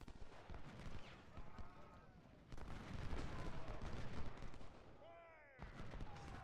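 Musket volleys from the American Civil War strategy game Ultimate General: Civil War crackle as dense, continuous rattling gunfire with occasional louder bursts, mixed with distant battle noise and brief whistling tones, and a voice talks intermittently over it.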